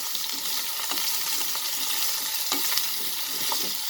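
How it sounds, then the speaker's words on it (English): Brinjal (eggplant) sautéed with red chilies in a hot pan for baingan methi, a steady oily frying crackle with a few scraping stirs of a spoon against the pan, close and continuous with no talking. "in goes the brinjal, the eggplant, or the bangan. We will mix it, just saute it"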